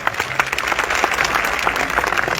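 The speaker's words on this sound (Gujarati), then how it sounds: "એકવાર જોરદાર તાળીઓ પડવી જોઈએ," A crowd at a political rally breaks into loud, dense applause, many hands clapping at once in a brief, energetic burst close by.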